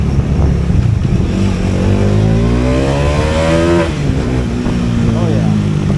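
A KTM Duke 390 or Bajaj Dominar 400 motorcycle on a side street, its engine revving hard and climbing in pitch toward redline, then dropping back and building again, loud and close, with people talking around it.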